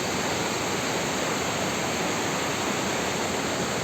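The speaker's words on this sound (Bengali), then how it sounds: "দেখুন অনেকটাই নিচে আছে জলপ্রপাতটা, ওই যে জলটা পড়ছে ওখান থেকে" Hundru Falls near Ranchi pours with a steady, dense broadband roar of falling water, constant and unbroken throughout with no voices.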